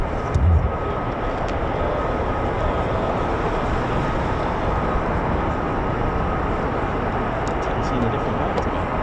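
A military jet taxis at RAF Lakenheath, a constant loud engine roar and whine that holds steady throughout, with a brief thump near the start.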